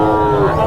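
A calf at the Matrapalli cattle market in Tirupattur district gives one loud, close, low moo that lasts under a second.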